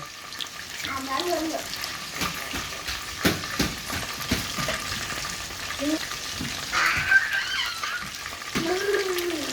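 Frozen kebabs frying in oil over high heat, a steady close sizzle and crackle with a few clinks, while voices talk intermittently over it.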